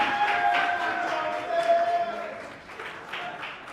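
Audience applause for a group at a 2023 talent competition event, a steady wash of clapping and crowd noise with some voices mixed in, fairly even in level throughout.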